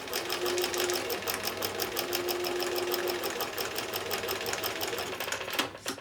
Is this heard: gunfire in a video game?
no